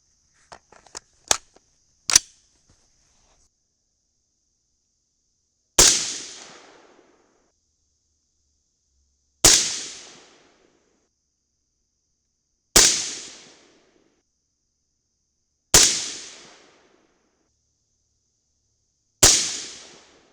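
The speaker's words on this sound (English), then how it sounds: "let's switch over to the Hornady and shoot the same load with that guy" Rifle shots with Hornady 55gr FMJBT loads over IMR 3031 powder: several sharp reports spaced a few seconds apart, each with a decaying tail, preceded by a few quieter clicks and pops.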